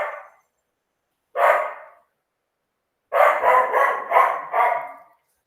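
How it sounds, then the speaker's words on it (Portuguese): A dog barks close by: a single short bark, another a second later, then a rapid burst of five barks after a pause, each loud and separated by silence. "Cachorro chato."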